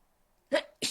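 A single close sneeze during a tabletop role-playing game session, bursting out in two sharp explosive parts within half a second after a quiet start.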